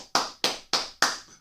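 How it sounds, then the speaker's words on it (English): Four sharp, evenly spaced claps sound close and loud from an audience applauding the Kuumba children, each burst fading quickly before the next, with no talking. "we're going to give those Kuumba babies a round of applause"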